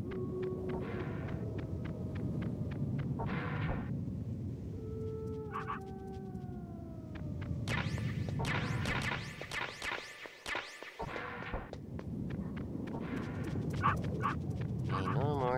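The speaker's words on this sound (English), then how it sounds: "That dog came in here, probably would have died." A dog in the PlayStation game Metal Gear Solid barks and gives drawn-out whimpering whines. The sounds are moderately loud and recur over a continuous bed of game sound.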